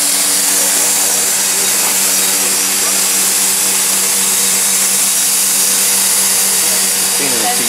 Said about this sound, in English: It's this sort of pulsating vacuum thing.